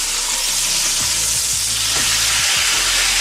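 Salmon pan frying in hot grease gives a loud, continuous close sizzle with steady hiss, and a few soft thumps from the pan are heard beneath it.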